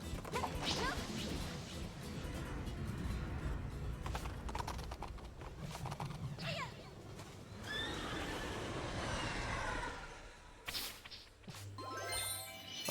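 A horse in the Princess Peach Showtime video game gallops with quick clip-clop hoofbeats and lets out loud neighs and whinnies, mixed with crashes, dings and jingling game effects.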